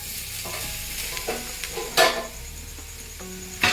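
Cooked rice being tossed and stirred with masala powder in a hot pan for chicken fried rice, with a steady close sizzle broken by repeated scraping spatula strokes and a few sharper clanks of metal on the pan.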